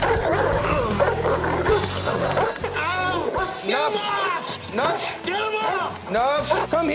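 A dog yips, whimpers and barks in quick, excited bursts close by, with a person talking over and between the calls.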